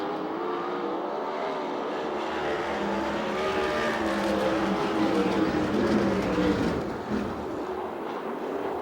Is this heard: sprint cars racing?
yes